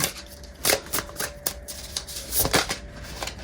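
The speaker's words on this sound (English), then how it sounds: "These are hard to shuffle, but they're beautiful." A deck of stiff tarot cards is shuffled by hand, giving uneven bursts of riffling and flicking clicks close by, with no talking.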